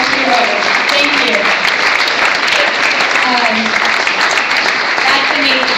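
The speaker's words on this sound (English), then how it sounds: "Please give yourselves a round of applause." Audience applause at a fundraising talk in Oakland, steady dense clapping filling the whole stretch at a fairly close, loud level, with no clear pauses and voices faintly mixed in.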